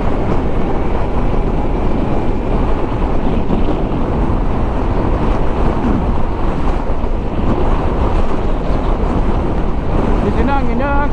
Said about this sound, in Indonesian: Di sini anginnya kenceng banget